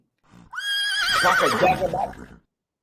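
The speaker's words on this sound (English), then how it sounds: "Cab horses." A cab horse gives a single loud, close whinny, starting high and shaking downward over about two seconds, with a short soft sound just before it.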